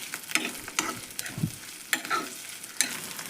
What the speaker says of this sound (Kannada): ಇದು ಎಣ್ಣೆ ಒಳಗೆ ಫ್ರೈ ಆಗೈತಿ.